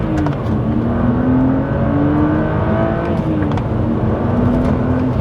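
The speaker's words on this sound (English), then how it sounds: "you just can't beat the sound of a naturally aspirated straight six" BMW 130i with a naturally aspirated straight-six petrol engine and manual gearbox, revving hard: a loud, close engine note that rises and falls through several rev climbs and gear changes.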